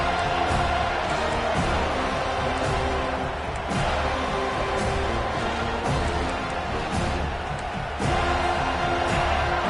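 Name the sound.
stadium crowd cheering loudly at football game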